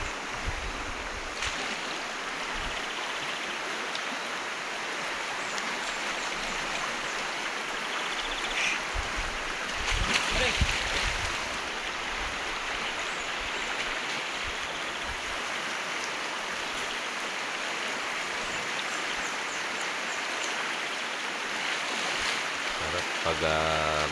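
Water rushing in a stream during a vacation in Davao Oriental, a continuous loud broadband rush that stays steady throughout, with a few brief splashes or knocks in the middle.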